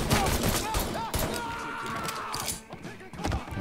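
Rapid pistol gunfire in the video game Mafia 3 rattles off in quick bursts with thuds, loud and busy, while someone talks over the shooting.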